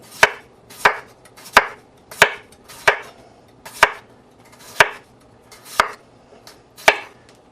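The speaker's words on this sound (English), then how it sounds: "The first thing we do is thin slice a couple of potatoes." A knife thin-slices potatoes on a cutting board, sharp close thunks landing at a steady pace of about one every 0.6 seconds, with nobody speaking.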